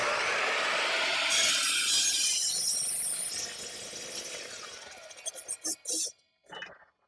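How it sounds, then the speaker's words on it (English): A 50-year-old saw cutting leftover 5/4 cherry wood, a loud sustained rasping cut that winds down and then gives way to a few short knocks and clinks close by. "So I'll cut up some leftover 5/4 cherry that I had taking up space."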